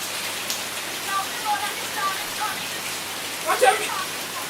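Heavy rain falling steadily outside a doorway during a hurricane, a soft even hiss with a few brief scattered splashes and clatters, fairly faint and without speech.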